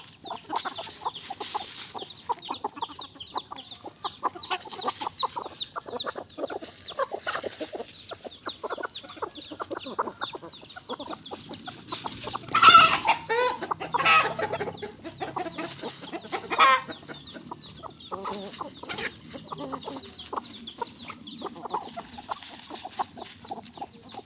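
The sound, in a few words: chickens clucking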